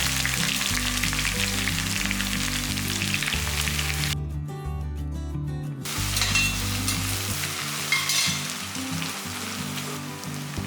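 Two large onions, sliced lengthwise, fry with curry leaves for rava kichadi in a steady, close, loud sizzle that runs throughout, with background music underneath.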